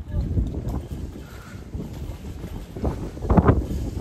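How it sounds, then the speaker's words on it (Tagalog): Wind buffets a microphone outdoors near water, a steady low rumble with gusts that swell toward the end, while faint voices sit underneath. "Oh, hangin kayo, no?"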